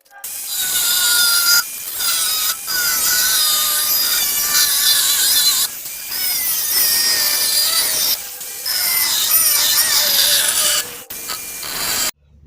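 Sawing through metal blanks for homemade throwing knives, a loud steady rasp in long strokes broken by short pauses between passes.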